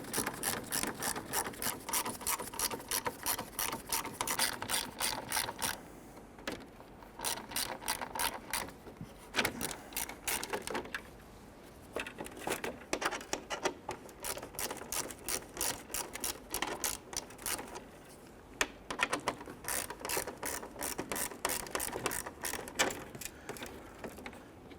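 A ratchet spins out 10mm screws along the bottom of the grille on a 1999-2004 Jeep Grand Cherokee 4.7L V8, giving close, rapid clicking in repeated bursts with short pauses between them.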